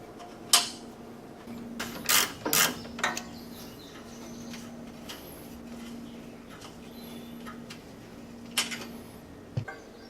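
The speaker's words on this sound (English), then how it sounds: "Next, we got 2 10mm bolts to remove. One on each side right behind the muffler." 10mm bolts being removed from behind the muffler of a 2018 Polaris RZR XP1000, heard as a series of close ratchet clicks and metallic clatter in bursts, over a steady low hum, with no talking.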